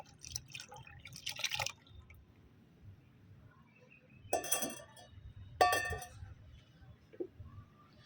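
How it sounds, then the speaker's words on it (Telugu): Plain water being poured and stirred into a homemade plant spray solution, with soft drips and a few brief splashing bursts, quiet and intermittent with no talk. "నార్మల్ వాటర్ తీసేసుకున్నాను ఫ్రెండ్స్ ఇప్పుడు దీన్ని ఇందులో మిక్స్ చేసేసుకుందాం"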